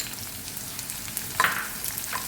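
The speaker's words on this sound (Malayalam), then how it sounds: "പച്ചമുളകും ഇഞ്ചിയും വെളുത്തുള്ളിയും നല്ല രീതിയിൽ മൂക്കുന്നത് വരെ" Chopped green chillies, ginger and garlic sauté in hot oil in a pan, a steady close sizzle with occasional brighter scraping stirs and small spits, no voices over it.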